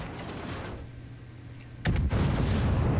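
Battleship guns fire in World of Warships with HMS Iron Duke. A heavy, sudden boom cuts in after a quieter stretch and rolls on loudly to the end.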